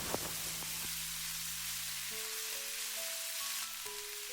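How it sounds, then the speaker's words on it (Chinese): Doubanjiang bean paste stir-frying with minced ginger and garlic over low heat in a wok, a steady soft hiss of sizzling oil throughout, with faint sustained musical tones underneath. "小火煸炒出豆瓣酱的红油和香味。"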